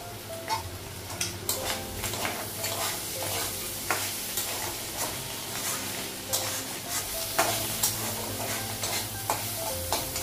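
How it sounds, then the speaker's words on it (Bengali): Bitter gourd sizzles frying in a hot pan while a utensil stirs and taps against it in a fairly regular rhythm, close by. "করলা ভাজাটা হয়ে গেছে,"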